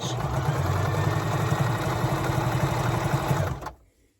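A serger stitches stretch fabric in a rapid, even mechanical whir with a rhythmic low thrum, close and steady, then stops abruptly near the end with no talk.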